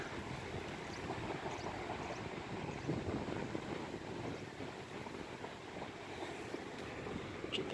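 Steady blustery cold wind roars and buffets outdoors, a continuous broad rush with faint gusting and no voices.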